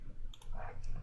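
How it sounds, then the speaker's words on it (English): A six-sided die is rolled, giving a few short light clicks as it tumbles and settles on a hard surface, close and brief, over a low background hum. "let's roll a 6 dice then"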